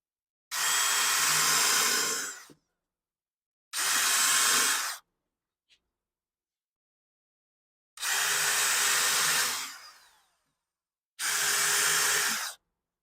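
A power drill driving screws into an outdoor chair build whirs in four separate bursts of a couple of seconds each, with quiet pauses between, one burst winding down more slowly.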